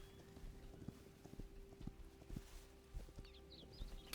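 Horse hooves clip-clopping across an open plains area in the video game Hytale, an irregular series of soft, close thuds over a steady low hum, with light bird-like chirps near the end.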